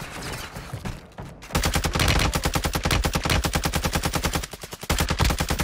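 Rapid automatic gunfire in a shooter game, a loud close stream of evenly spaced shots in long bursts with a brief pause between them.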